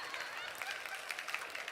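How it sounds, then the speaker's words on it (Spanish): A church audience applauds a preacher, a fairly faint, scattered clapping with crowd murmur beneath a speaking voice. "Sí, aplaudan."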